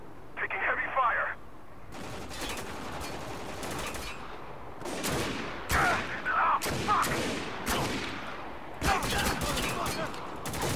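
Heavy gunfire in the war shooter Spec Ops: The Line, with a sustained roar of shots and louder bursts in bunches, interrupted by short pauses, close and loud throughout.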